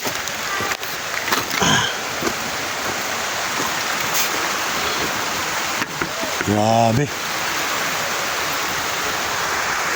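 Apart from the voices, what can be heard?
heavy rain falling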